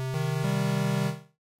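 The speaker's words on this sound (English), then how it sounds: "a square wave," A square wave on a Roland Zenology synthesizer gives a hollow, reedy sustained tone, briefly retriggered twice near the start, then held steady for about a second before fading out.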